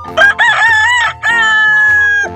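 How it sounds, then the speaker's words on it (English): A rooster gives a loud, drawn-out crow on a farm, split into two long sustained calls with a short break between them, close and alone with no talking. "Rusty lazily let out a loud crow."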